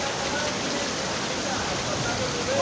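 Heavy rain pours steadily in the early morning, a dense even hiss of falling water that holds at the same loudness throughout and swells slightly at the very end.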